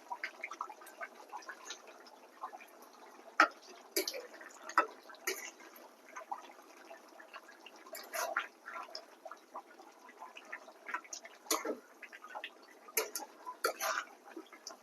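Chicken curry from a home-raised bird, cooked with green chillies, whole onion and garlic in plenty of oil, being stirred in a pot: scattered close clinks and scrapes with wet bubbling, irregular, no voices.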